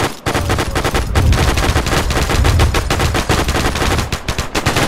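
Machine gun fire in a Wake Island battle video game: long, loud bursts of rapid, evenly spaced shots that go on almost without a break, with no talk.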